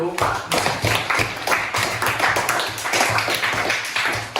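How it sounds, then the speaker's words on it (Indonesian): Classroom applause for the first student group during a ninth-grade Islamic history lesson: a steady patter of many hands clapping together for several seconds, fairly close and dense, with no talk over it. "kita beri aplaus untuk kelompok 1"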